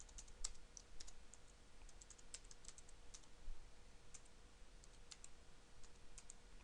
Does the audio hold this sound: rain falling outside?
no